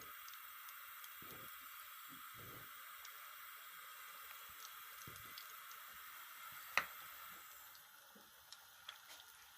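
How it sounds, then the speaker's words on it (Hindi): Spoonfuls of pakora batter dropped into hot oil over a lowered flame, giving a steady, quiet sizzle and hiss with soft bubbling, one brief sharp pop partway through, the frying easing slightly near the end. "जितने साइज़ भी आपने निकालने हैं उतना उतना चम्मच से भर के आप बैटर डालते जाएं"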